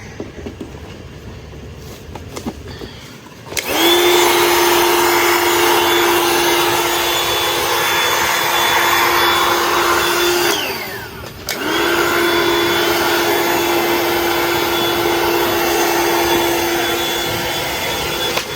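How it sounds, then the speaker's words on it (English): A portable electric fan runs at a campsite at night: a steady, loud whirring hum with a tonal drone, starting after a few seconds, briefly cutting out around the eleven-second mark, then resuming just as steady. "And then we have this augury fan. It's a nice fan."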